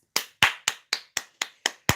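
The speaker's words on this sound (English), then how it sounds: "Round of applause for that bitch." Eight sharp, evenly spaced claps, loud and close, like a single pair of hands rather than a crowd, with no voices over them.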